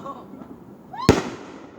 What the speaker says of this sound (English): That's the fireworks deploying at night. Or launching up in the sky.